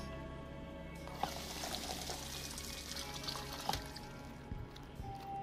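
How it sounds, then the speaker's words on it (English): Beer pours and splashes onto a floor in the video game Deathloop, a steady broadband liquid gush lasting several seconds with a few sharp clinks, heard alone over a low game ambience hum. "So it just poured beer all over my floor"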